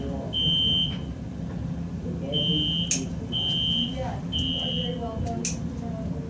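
An obnoxious, piercing fire alarm sounds in a building, its steady high beeps repeating in several bursts over a background of room noise and murmuring voices.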